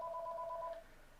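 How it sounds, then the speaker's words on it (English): A phone gives a short electronic two-tone beep lasting under a second, fairly faint and heard alone, then fades into quiet room tone. "Sorry about that. That's my phone."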